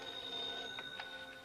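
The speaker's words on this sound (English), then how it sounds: "At 10:30 p.m., I received a phone call from Ray Nathan at CAA." A telephone rings in a radio drama, its steady electronic tone sounding continuously with a few brief bell-like pulses layered over it.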